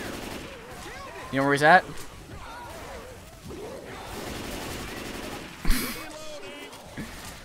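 Explosive-ammo gunfire in Left 4 Dead 2 during a zombie survival round, a few sharp shots and bursts cutting through ongoing game noise while players talk over it.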